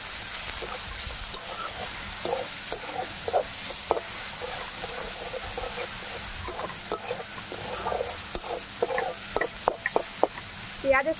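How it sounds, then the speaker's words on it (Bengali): Chopped onion frying and being stirred with whole cumin, coriander, bay leaf and dried chilli in hot oil, a steady close sizzle broken by scraping stirring strokes, during village-style cooking of a katla fish curry. "গোটা জিরে, ধনে, তেজপাতা, শুকনো লঙ্কা, ফোড়ন দিয়ে দেব। পেঁয়াজ কুচি,"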